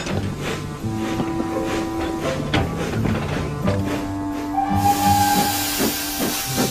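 A steam locomotive on a model railway remake of Sodor sets off with hissing steam and chuffing, joined by musical tones and a rising whistle-like hiss near the end.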